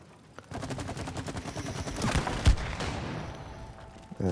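Gunfire at a shooting range, a rapid series of sharp shots in a burst lasting a few seconds, close and loud, with a heavier crack near the end.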